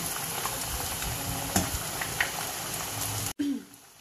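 Steady crackling sizzle of thin chicken cutlets frying in oil for chicken katsu, with a few sharper pops, cutting off abruptly near the end before a faint clatter.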